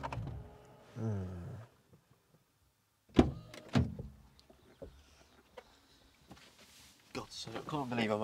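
A BMW 760Li V12 car door clunks open with a couple of sharp mechanical knocks, framed by a person talking before and after.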